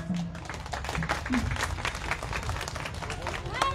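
Audience applause for politician Suvendu Adhikari at a Kali Puja and Diwali event in New Digha, a dense crowd clapping steadily for several seconds at moderate loudness, with scattered voices mixed in.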